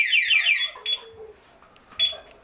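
A two-way alarm on a Yamaha Mio i 125s motorcycle sounds a brief electronic chirp followed by two short beeps, loud and close.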